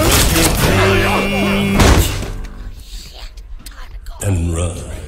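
Gunfire in the Prey 2 cinematic trailer arrives as heavy thuds and booming shots over an intense music and effects mix, with shouted voices nearby and a quieter stretch before another loud burst.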